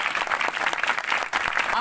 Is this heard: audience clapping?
yes